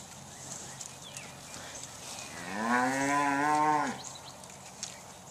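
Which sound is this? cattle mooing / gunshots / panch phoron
cattle mooing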